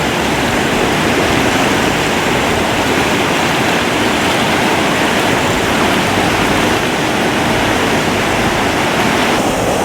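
Fast whitewater of Lee Vining Creek, a trout stream, rushing loudly and steadily in a dense, unbroken roar close by, with no voices.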